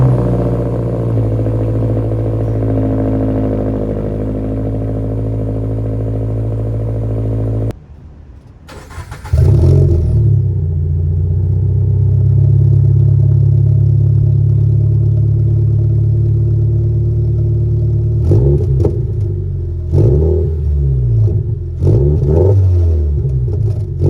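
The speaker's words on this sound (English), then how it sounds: "I'm just gonna go ahead and show you guys what the exhaust sounds like." A Subaru FR-S with a muffler-delete exhaust, started warm, idles with a deep, loud rumble, goes briefly quiet, then barks back to life and settles into a heavy drone with several sharp revs near the end.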